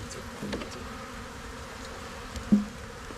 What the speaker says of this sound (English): Apis mellifera scutellata build quickly and defend fiercely